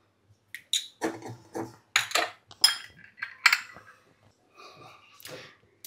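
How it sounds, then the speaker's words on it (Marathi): A knife finely chops cashew nuts in short, irregular bursts of close knocks and light clinks, with brief pauses between strokes and no talking. "काजू आपण बारीक कापून घेऊ भाजण्यापुरती"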